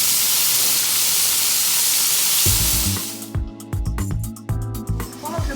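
Fish for a Sri Lankan fish curry with onions hisses loudly in a hot pan, a broad steady sizzle for a couple of seconds that then breaks into clattering and scraping with quieter bursts of frying.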